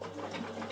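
A Bernina sewing machine stitches an apron made from upcycled jeans, giving a steady, close mechanical whir with a fast, even needle rhythm.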